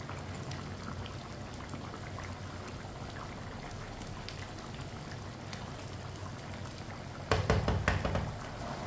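Masoor dal khichdi simmering in an uncovered pot: soft, continuous bubbling and popping with scattered little spits at a low steady level, then a brief louder clatter near the end.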